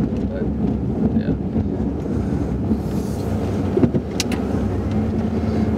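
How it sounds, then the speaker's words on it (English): A pickup truck plowing snow in a side lot, pushing the snow over into a pile; a steady, loud engine rumble and scraping wash continues throughout, with a sharper clunk near the end and light speech underneath. "Where the truck is pushing it over."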